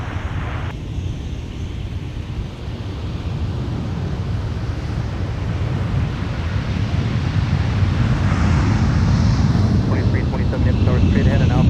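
A jet airliner takes off from runway 17 at Minneapolis–Saint Paul airport, a loud, steady engine roar that builds over several seconds, mixed with wind noise on the microphone and radio chatter faintly in the background.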